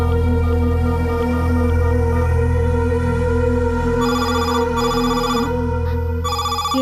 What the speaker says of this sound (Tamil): என்ன மறுபடியும் போன் வருது?